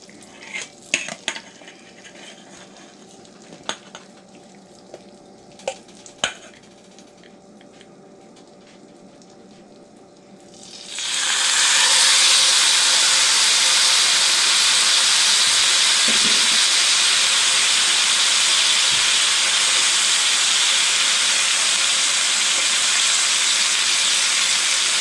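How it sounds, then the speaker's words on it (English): Beef hits a pan of hot margarine and breaks into a loud, steady sizzle that carries on unbroken, after a quieter stretch of scattered clinks from pans and utensils. "Now let's add the beef."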